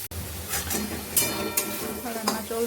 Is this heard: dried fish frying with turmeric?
yes